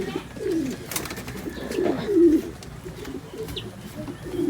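A racing pigeon coos at a rain-soaked loft, soft rolling low calls repeated close by over steady background noise.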